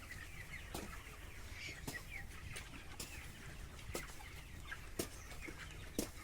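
Chickens at a poultry farm cluck faintly and repeatedly at a distance, with short, sharp clucks recurring about once a second over a low background hum.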